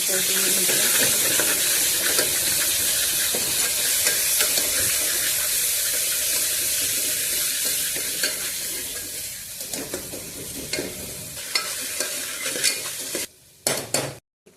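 Two spoonfuls of ginger garlic paste fry in hot oil for Solapur-style mutton rassa, giving a loud, steady sizzle with stirring scrapes that eases off toward the end, where a few sharp utensil clacks break through.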